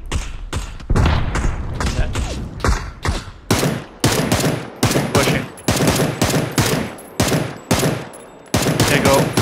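Suppressive gunfire in PUBG, loud close bursts of shots repeating in rapid clusters throughout, with brief gaps between strings, and players talking over the shooting.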